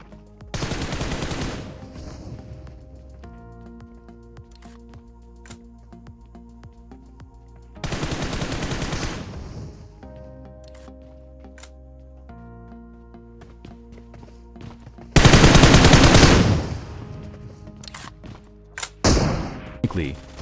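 Bursts of automatic gunfire in PUBG Mobile while the player bunny hops, three loud volleys and a shorter final one, separated by quieter stretches of game music and tones.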